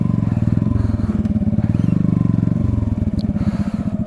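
A motorcycle engine idles close by before a wheelie attempt, a loud rapid pulsing putter with a brief rise in revs and some faint clatter.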